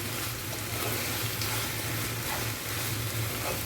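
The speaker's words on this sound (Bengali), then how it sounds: "আর এই সময় দিয়ে দেবো কাঁচা লঙ্কার কুচি ভালোভাবে নেড়ে লঙ্কাটাকে মিশিয়ে নিচ্ছি" Chopped green chilies being stirred into frying lote fish, a loud close sizzle with wet spluttering and scraping stir sounds, continuous for a few seconds.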